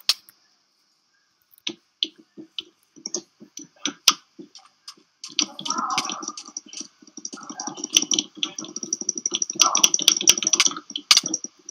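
A computer keyboard and mouse clicked furiously during a Minecraft game: sparse, scattered clicks at first, then a dense, rapid clatter that builds toward the end, close and fairly loud.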